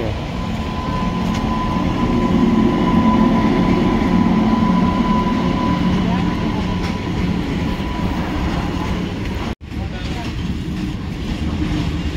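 A train rolls past close by with a loud, continuous rumble and rattle that holds steady for about twelve seconds, broken only by a very short dropout near the end.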